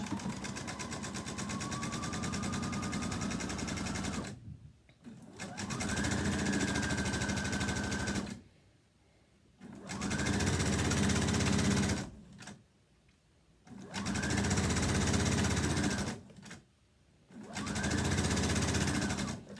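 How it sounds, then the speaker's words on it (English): A sewing machine straight-stitching fabric strips for a piano keys quilted border, running in five steady whirring bursts of a few seconds each with short quiet pauses between them, close and clear. "put my presser foot down, and then straight stitch"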